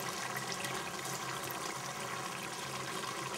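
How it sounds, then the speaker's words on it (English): Cream being poured into chicken liver pate, a continuous soft liquid pouring wash, close and fairly faint, with no voices. "Now I'm adding the cream in here now,"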